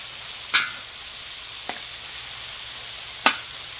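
Chorizo, bacon and sausage frying together on a plow disc outdoors, a steady close sizzle broken by three sharp metallic scrapes from a utensil.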